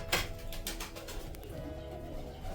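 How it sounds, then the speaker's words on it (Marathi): Pigeons in a home loft coo softly, low throaty calls repeating under a faint background of rustling and other birds, no one speaking. "तर बघा मित्रांनो, हे माझे बाहेरचे कबूतर"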